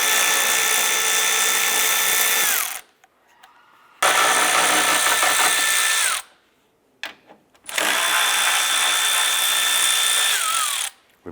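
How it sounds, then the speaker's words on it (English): A power drill with a T30 Torx bit backs out Ford Fiesta headlamp screws in three loud close bursts, each whine dropping in pitch as the screw frees, separated by quiet pauses. "Using a T30 Torx bit, remove the headlamp screws."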